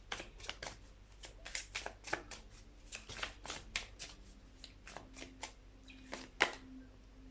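Tarot cards are shuffled close by in a quiet room, a rapid run of crisp riffling snaps and slaps in uneven bursts, with one sharper flick near the end and no talking.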